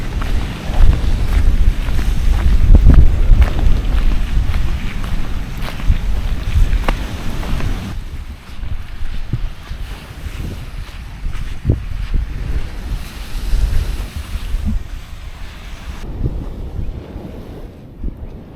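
Choppy open water with wind buffeting the microphone, a continuous roar of waves and gusts, louder at first then easing slightly, with no talking.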